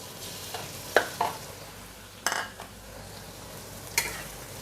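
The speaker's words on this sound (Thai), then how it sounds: "เราก็จะใส่ไก่ลงไป" Chunks of chicken thigh hit a hot pan for Thai basil stir-fry with glass noodles, giving a steady low sizzle with a few sharp utensil scrapes and clacks against the pan, close and moderately loud with no talk.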